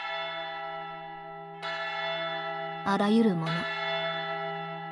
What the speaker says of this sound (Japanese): おう、 葬送の鐘だ。